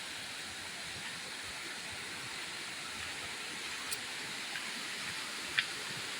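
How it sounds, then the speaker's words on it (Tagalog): Strong waterfall pouring hard, a dense steady roar of rushing water that holds even and continuous throughout, with no voices over it. "malakas yung tubig dito sa sa falls"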